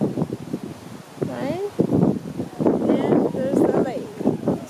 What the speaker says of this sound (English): Sorry, it's windy.